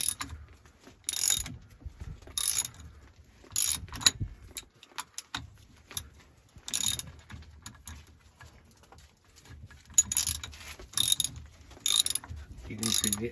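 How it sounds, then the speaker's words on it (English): A ratchet wrench clicks in short bursts while turning the brake S-cam on an MCI 5 bus that needs new brake shoes, with quiet pauses between the rattling runs. "if we click our wrench this way"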